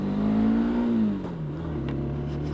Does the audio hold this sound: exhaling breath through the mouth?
no